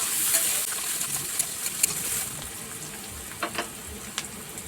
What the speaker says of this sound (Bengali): তেলে পেঁয়াজটা দিয়ে দিচ্ছি, পেঁয়াজটাকে লাল করে ভাজবো।